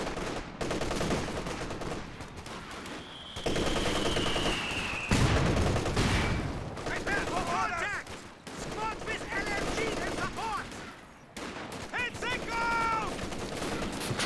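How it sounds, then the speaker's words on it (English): Machine gun bursts and scattered rifle fire from the Company of Heroes 2 strategy game, repeated volleys rattling over a busy battle din, with a commentator's voice talking across much of it. "Heavy machine gun team prepared for combat."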